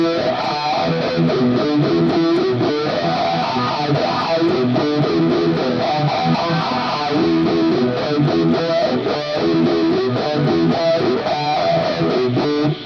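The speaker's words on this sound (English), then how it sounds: "if you've got a crybaby pedal or a wah-wah, you can slowly sweep" Distorted electric guitar playing a busy lick from a song through a Crybaby wah pedal, its tone shifting and sweeping steadily, loud and continuous with no voices.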